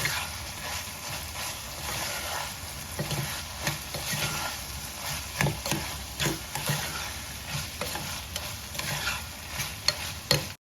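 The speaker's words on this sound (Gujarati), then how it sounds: "આને બી આપણે તેલમાં સરસ શેકાવા દેવાનું છે" Cowpeas and potatoes sizzle in oil while a spoon repeatedly scrapes and stirs the pan, producing irregular clattering strokes over a steady frying hiss.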